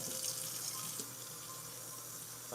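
Water runs steadily from a tap as dishes are washed in a kitchen sink, a continuous broadband hiss heard faintly in the background with no other sounds.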